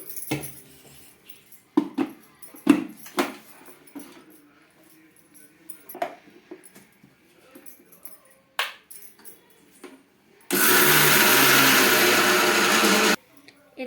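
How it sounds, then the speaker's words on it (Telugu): A mixer grinder grinds soaked rice and urad dal in a home kitchen, a loud, dense whir lasting a few seconds near the end, after scattered clinks of dishes, handling noises and some talk. "స్మూత్గా గ్రైండ్ చేసుకోవాలి"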